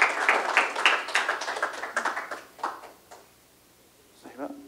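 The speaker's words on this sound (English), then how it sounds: "Give Bob a nice round of applause" An audience at a symposium applauds in a short burst of clapping that fades out after a few seconds, followed by a brief voice.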